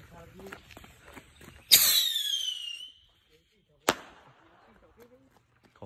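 A bottle rocket firecracker launches from a liquor bottle with a sudden bright whistling screech that fades over about a second, followed by a single sharp bang. Voices chatter faintly before it.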